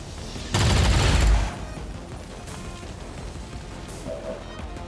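Burst of gunfire aimed at a Vanguard soldier in the tactical strategy game XCOM 2 Long War of the Chosen, a loud rapid volley of just under a second, then a quieter lingering ambience.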